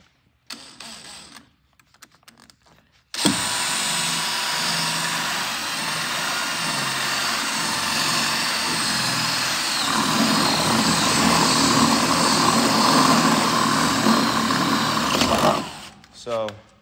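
A power drill runs steadily and loudly for about twelve seconds, grinding hard as it cuts through a metal electrical box for a card reader cable, after some faint movement and brief speech.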